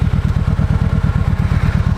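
Motorcycle ridden at night, its engine loud and close with a rapid, regular pulsing throb and some clatter, no voices.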